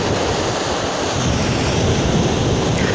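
Seawater surging and lapping against a harbour wall at high tide across from Portsmouth, a steady close rush of surf with wind buffeting the microphone, no voices.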